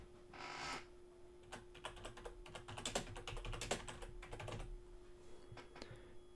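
Keys clatter on a computer keyboard in quick irregular bursts, close and clear, with short pauses between runs of typing and no talking.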